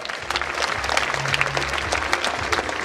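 A hall full of people at a sports gala in Lubawa applauds medal-winning athletes, a dense, even roar of many hands clapping that fills the space without a break, with a faint murmur underneath.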